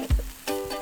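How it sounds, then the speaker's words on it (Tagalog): Wagyu beef cubes fry on a hot pan at an overnight camping setup, giving a brief, close crackle and sizzle with a soft stirring scrape. "Luluto kami ng steak. Wagyu cubes talaga."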